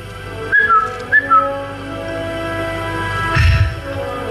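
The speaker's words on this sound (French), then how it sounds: "Pour se faire connaître, le comte doit siffler 2 fois." Two short upward-sliding whistles from a person signalling, clear and close over a steady low hum, followed by a dull thump.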